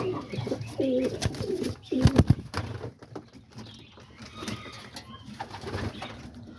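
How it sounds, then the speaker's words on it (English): Homing pigeons coo in a loft, several low throaty rolling calls close by, with a burst of overlapping coos in the middle amid faint rustling and background noise. "Even my broken leg pigeon right here."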